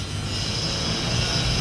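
An LRT light rail train rolls past a construction site, a loud, steady rumble with a hissing, metallic high edge that holds without a break throughout.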